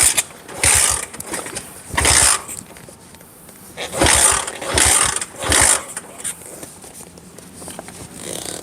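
A motorcycle engine, left unstarted through long storage, revs in several loud, rough bursts that drop back to a lower idle between them, heard up close.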